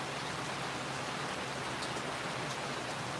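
A downpour in Ashmore drums on without a break, a thick, constant wash of rain hitting surfaces nearby, loud and uniform from start to finish, with no one speaking.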